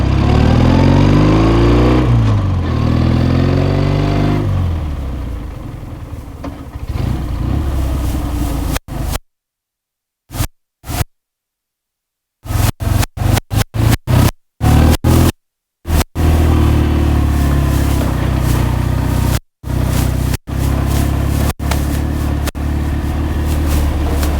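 A 1973 Chang Jiang motorcycle is ridden and picks up speed, its engine revving and rising in pitch, with a loud steady drone and repeated abrupt gaps where the sound cuts out.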